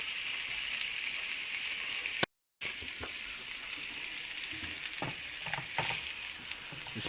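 Carp fillets of different thicknesses fry in a pan, giving a steady close sizzle with occasional crackles and pops and a brief dropout partway through; no voices.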